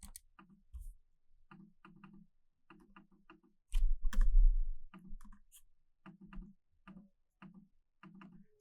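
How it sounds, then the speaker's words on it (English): A computer mouse clicks in quick pairs, crisp double clicks repeating in an irregular rhythm, close and fairly quiet, with one louder thump of desk handling in the middle. "So just keep double clicking until you get in it"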